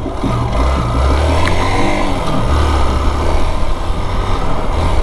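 A Hero Xpulse motorcycle fitted with a new handlebar is ridden on a test run, its engine a loud, continuous close-up drone with slight rises and dips in pitch, mixed with rushing wind.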